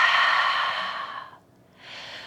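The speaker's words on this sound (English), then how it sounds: "open mouth, exhale" A deep, breathy exhale through an open mouth during a yoga breathing exercise, a long, steady rush of air that fades out and is followed by a softer second breath.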